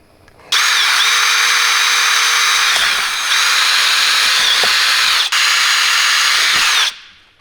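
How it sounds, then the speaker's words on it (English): A power drill drilling a cable hole in a UTV cab whirs loud and close for about six seconds, dipping briefly partway through, then winds down and stops. "So I'm gonna drill the hole for the cables here."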